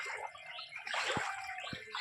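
Floodwater in front of a house sloshing and swirling steadily, with two brief low splashes or thumps as something moves through the water, fairly close and with no talking.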